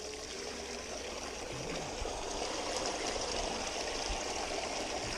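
Water runs steadily over a gold sluice mat, a constant close rushing and trickling flow with no voices.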